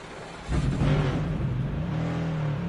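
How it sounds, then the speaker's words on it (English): A NASCAR stock car engine fires up in a racing video game at Pocono Raceway, a sudden loud catch into a steady low rumbling idle with a slight rise in pitch, heard alone without voices. "let's fire this engine up, get ready to roll around the Tricky Triangle"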